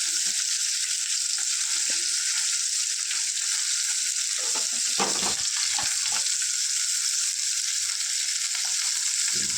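Onion, carrots and green beans fry in a pan for a Punjabi mixed vegetable sabji, a steady loud sizzle throughout with a few brief stirring scrapes near the middle.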